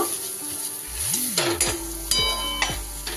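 A spatula stirs and scrapes turmeric, cumin and coriander powder frying in a pan for katla fish kalia, with steady sizzling and a few sharp metallic scrapes and knocks against the pan, no talking.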